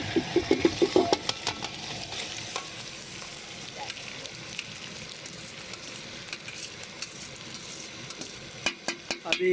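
Boiled rice goes into hot ghee and is stirred for sweet zarda rice, a constant low sizzle beneath rough scraping and clattering stirs, with a few louder knocks at the start and end and no talk.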